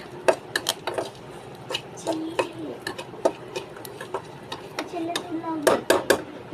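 Thin shrimp shells roasting in a pan, stirred with a utensil that scrapes and clinks against the metal in quick irregular taps over a low sizzle, with a voice talking in the background.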